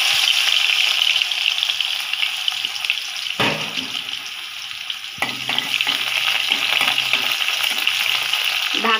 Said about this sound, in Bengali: এই তো এখানে আম্মু এখন দিয়ে দিবে রসুন।